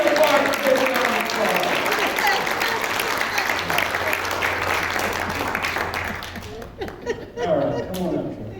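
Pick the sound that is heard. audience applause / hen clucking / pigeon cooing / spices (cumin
audience applause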